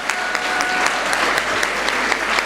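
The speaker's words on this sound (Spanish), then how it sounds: "Vamos, fuerte el aplauso." An audience claps steadily and fairly loudly in a hall during a Día de la Patria talk on the history of Argentine tea in Misiones, with a dense wash of hand claps and no voices.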